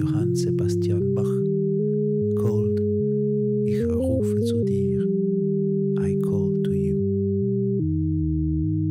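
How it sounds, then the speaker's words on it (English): A synthesized sine-tone melody by Johann Sebastian Bach plays as a steady sequence of held pure tones that step between pitches, with faint breathy voice-like bursts above it throughout. "What you hear now is a melody composed by Johann Sebastian Bach."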